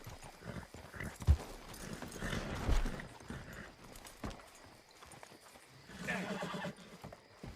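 A horse whinnies and snorts nearby while hooves clip-clop in an irregular rhythm, mixed with people talking and general outdoor bustle.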